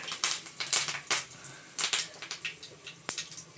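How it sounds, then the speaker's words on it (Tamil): Mustard seeds spluttering and popping in hot oil while tempering for a raw mango pachadi, with a rapid scatter of sharp, irregular crackles and pops close by and no talking. "கடுகு நல்லா பொறிஞ்சிச்சு பாருங்கள் சவுண்ட் எப்படி வருது"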